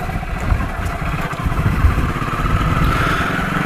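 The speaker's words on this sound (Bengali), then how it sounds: "দেখতে পাচ্ছ বাইকটা কি সুন্দর চলছে, কোনো রকম কোনো অবস্ট্রাকশন নেই, কোনো ইঞ্জিনের মধ্যে কোনো রাফনেস নেই" A sixteen-year-old Hero Splendor Plus motorcycle engine runs smoothly and close, its steady even putter loud and alone without any roughness.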